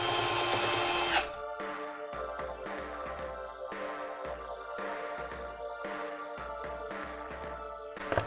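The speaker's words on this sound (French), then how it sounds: "on va dévisser les 4 vis de cette base" Four screws are unscrewed from the base of an electric bicycle battery. A quiet, rhythmic ratcheting and clicking repeats steadily throughout, with one brief louder scrape at the start.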